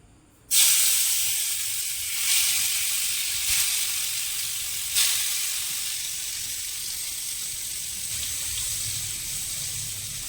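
Fish dropping into hot oil for frying, a sudden loud hiss that bursts in then settles into a steady bright sizzle, with a few fresh surges as more pieces go in.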